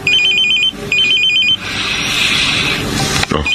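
A cellphone rings loudly and close with a repeating electronic trill in bursts, followed by a brighter, sustained ringtone passage.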